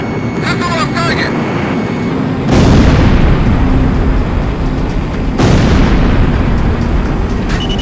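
Missile launches and heavy weapon fire in a video game: two loud booming blasts with long roaring tails, about three seconds apart, over constant rumbling battle noise, with voices heard briefly near the start.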